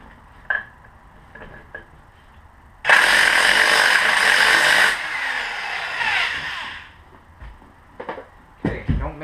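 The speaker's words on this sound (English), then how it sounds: "I switched to my electric impact because the air impact that I'm using, it's slow." An electric impact wrench hammers nuts loose on a Grizzly 660 ATV during clutch repair, with a loud burst of rapid rattling impacts lasting about two seconds, then a fading whir, surrounded by small clinks and handling noises.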